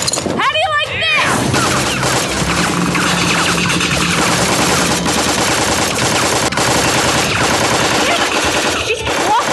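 Rapid bursts of video game gunfire from Tales from the Borderlands fill the whole stretch, loud and dense, with shattering impacts and characters talking over the shooting.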